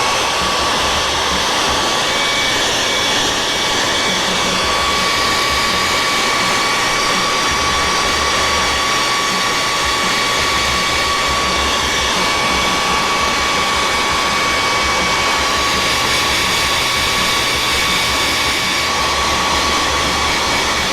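Heat gun blowing hot air steadily to cure fresh spray paint on a project, a continuous loud broadband whoosh with a faint high whine, running unbroken without talk.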